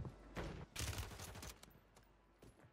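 Gunfire in Call of Duty on Rebirth Island, a few loud bursts of shots near the start and middle that trail off into quieter scattered reports, with no talk.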